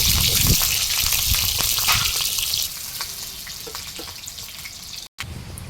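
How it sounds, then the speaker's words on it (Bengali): Diced round potato chunks frying in hot oil, a loud steady sizzle and crackle with a few stirring scrapes, easing slightly partway through and cut by a brief dropout near the end. "আলুগুলো তেলের মধ্যে দিয়ে একটু ভালো করে ভেজে নেব।"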